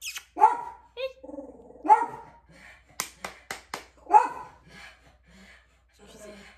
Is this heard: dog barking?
yes